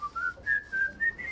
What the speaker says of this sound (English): Could you whistle that for me?